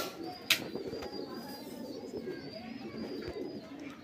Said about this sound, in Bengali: সব উড়নের পায়রা, এটাও সব উড়ান পায়রা।